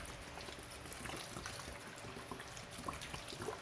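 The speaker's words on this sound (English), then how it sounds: "After all these ingredients, we will put this water." Water poured into a cooking pot of mutton paya after the other ingredients, about 1.5 liters at a time, giving a steady close trickling and splashing pour with no talk.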